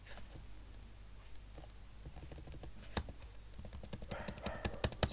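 Keys clatter on a computer keyboard as a new MySQL username is typed on Linux, a steady run of light taps that grows busier and louder toward the end, with no talking.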